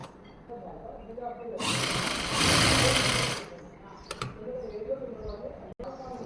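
A sewing machine stitches a readymade cord onto a blouse back neck, with one loud continuous burst of about two seconds, then quieter handling clicks close by.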